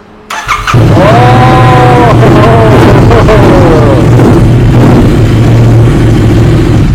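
A motorcycle engine revs loudly several times, rising and falling in pitch, then settles into a steady, close idle rumble.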